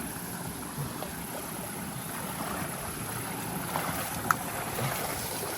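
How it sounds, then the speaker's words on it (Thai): A rain-swollen waterfall tier and fast, muddy forest stream roar in a continuous broadband rush, steady and close, with one small sharp click partway through and no voices. "มาถึงน้ำตกอีกชั้นหนึ่งแล้วนะ"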